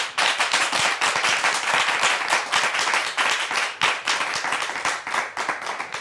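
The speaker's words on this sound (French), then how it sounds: "Est-ce qu'on peut le prouver une autre fois avec des applaudissements, mais bien nourris, s'il vous plaît?" A church congregation claps loudly and briskly, many hands close by producing dense, sharp, crackling beats that continue nonstop with brief dips in intensity.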